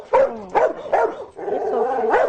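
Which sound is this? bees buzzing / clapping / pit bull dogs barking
pit bull dogs barking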